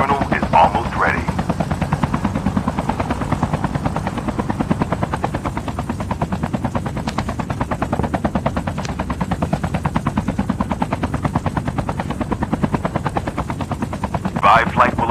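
Helicopter rotor thumping steadily for the whole stretch in COD Mobile battle royale, loud and constant, with gunfire and game sounds mixed in and a synthetic voice announcing in-game messages over it.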